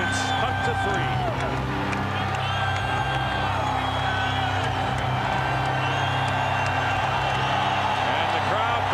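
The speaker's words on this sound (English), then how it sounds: "And the crowd very much in it" A basketball arena crowd during an NBA game between the Detroit Pistons and Seattle SuperSonics, 1996, keeps up a loud, sustained roar and cheer with scattered clapping, under continuous commentary.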